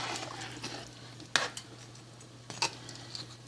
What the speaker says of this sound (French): Puis là, on brasse.